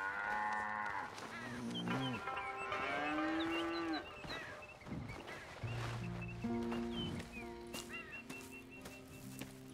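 Several cows moo in long drawn-out calls, one after another and sometimes overlapping, fairly close with a slightly artificial, game-like quality, from the video game Red Dead Redemption 2.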